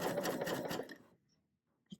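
A serger runs a fast, steady stitch along a fabric strip for about a second, then stops, leaving near silence before a few light handling taps.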